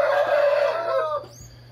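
A rooster gives a loud, near crow with clucking tones while being treated for an ear inflammation, then falls quiet under a low steady hum.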